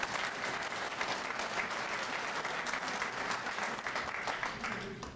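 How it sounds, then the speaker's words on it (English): A conference audience at a Hereford cattle breed event gives a sustained round of applause, many hands clapping in a thick, even wash that fades slightly at the end. "I think we all owe each other a big round of applause and a celebration"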